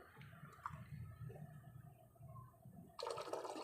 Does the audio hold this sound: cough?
no